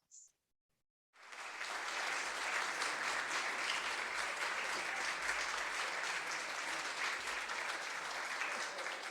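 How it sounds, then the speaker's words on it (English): Sustained applause from an audience for local businesses at a town state-of-the-address event in Cheektowaga, starting after a brief pause and holding steady, dense and fairly loud for about eight seconds. "Let us give them all a round of applause."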